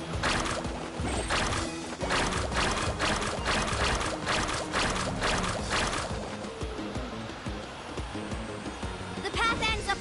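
Water surfing in the Genshin Impact video game, heard as continuous rushing, splashing water with surges and swells under game music and voices.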